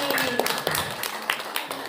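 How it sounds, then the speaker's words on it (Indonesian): A crowd claps in a brief, scattered round of applause, with sharp individual claps over a dense room ambience. "Tepuk tangan untuk Pak Rudi"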